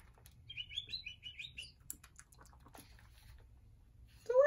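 Faint chickadee chirps near a backyard bird feeder: a quick run of high, thin tweets followed by scattered soft clicks and rustles, quiet and close, with a brief louder sound at the very end.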